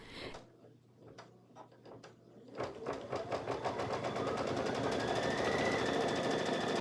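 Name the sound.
embroidery machine stitching outline of pumpkin Halloween treat bag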